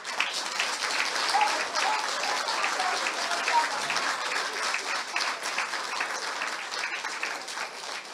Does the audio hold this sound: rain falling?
no